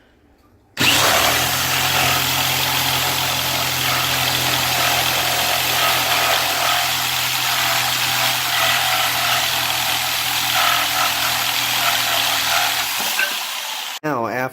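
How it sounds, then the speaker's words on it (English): A jigsaw cutting along a marked line in a board for a topper runs loud and steady for about thirteen seconds, close to the mic, with an abrupt start and a brief stop at the end. "Now we will take our jigsaw and we will cut across the line."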